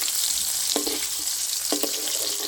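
Pieces of fish (shol) fry in hot oil with a constant close sizzle, punctuated by a couple of sharp clinks of a utensil against the pan.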